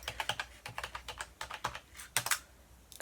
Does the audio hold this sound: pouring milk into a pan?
no